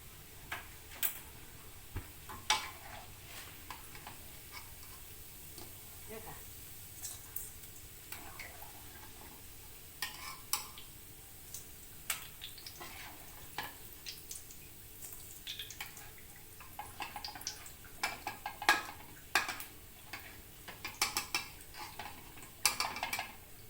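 Fried Thai pork belly being scooped out of a pan, with scattered light clinks and taps of utensil on metal, faint and irregular over a low background, with no talking.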